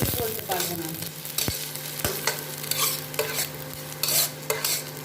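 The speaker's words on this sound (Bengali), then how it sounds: "আর আমি একটু কম ফ্লেমেই ভাজছি, যাতে পুরো সেদ্ধ হয়ে যায় জিনিসটা।" Chopped garlic and onion frying over low flame in a pan, a steady close sizzle broken by repeated scraping strokes of a spatula stirring through the mixture, with no voices.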